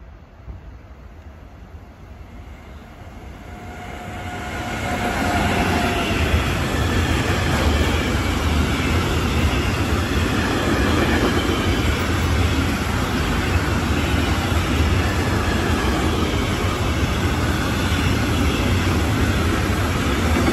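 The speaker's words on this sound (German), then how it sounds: "noch ein Kesselzug, gezogen von einer Lokomotive der SBB Cargo" A tank car freight train hauled by an SBB Cargo locomotive passes at Kahl am Main, swelling from a distant rumble into a steady, loud roar of rolling wagons that continues to the end.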